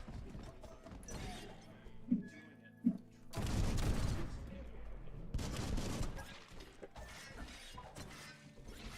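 Gunfire rings out in a video game: scattered sharp shots early, then a loud sustained burst of rapid fire with clattering mechanical sounds and shattering, recurring later amid background game sounds.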